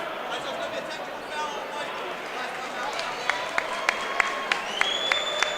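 Governor Mifflin fans at a varsity boys basketball game applaud in a gym, a crowd murmur swelling into a run of sharp claps near the end while an announcer talks over it.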